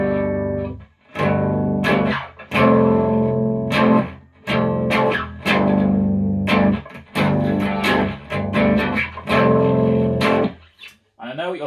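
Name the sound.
chords played on a bass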